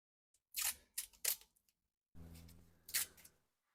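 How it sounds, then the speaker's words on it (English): Small strips of tape being torn off a roll in a garage workshop, several quick ripping bursts in close succession followed by a longer pull, close and fairly quiet with no talking. "I'm just gonna make little strips of tape, just about this long."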